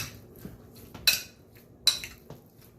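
Seasoned chicken, salted and peppered, is mixed with a utensil in a bowl, heard as a few soft scrapes and two bright metallic clinks, close and quiet.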